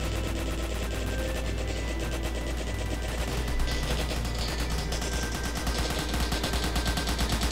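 Rapid machine gun fire in the Roblox game Zombie Attack, a dense, continuous rattle of shots that stays loud and steady throughout with no pause.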